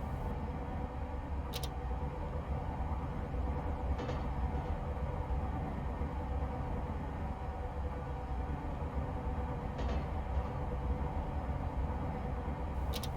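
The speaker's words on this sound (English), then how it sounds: "I've just got the power at idle now, and we're gonna coast in towards the terminal" A steady, even rumble comes from a train in a simulator game, coasting toward a Grand Central terminal with the power at idle. A few faint clicks punctuate it.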